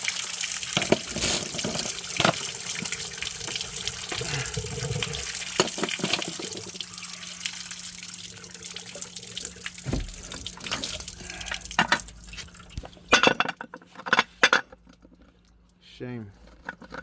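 Coolant water draining from a Citroën Dispatch 2.0 HDi engine with the water pump unbolted, a thin trickle and splash heard up close, with intermittent clinks of tools and someone talking at times.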